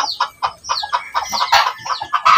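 Pure labuyo hen and rooster clucking close by, a quick run of sharp, bright clucks and squawks with short pauses between bursts, loud and unbroken to the end.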